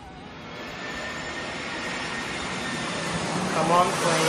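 A jet airplane passes overhead, a broad steady roar that builds gradually and grows slightly louder toward the end, while people react and talk over it.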